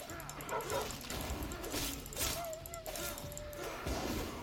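Hostile dogs bark and yip in close-range combat in the game Enshrouded, rising in short bursts amid battle noise.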